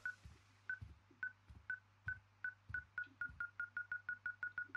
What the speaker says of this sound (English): Follow the beeping device.